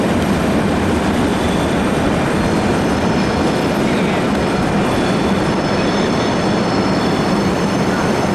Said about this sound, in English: Here at Milano Centrale, this is my train, which is the 925.